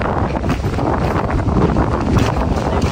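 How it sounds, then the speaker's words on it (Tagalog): Strong wind buffets the microphone with a constant loud, blustery roar throughout, outdoors in Greenland. "medyo malakas yung hangin."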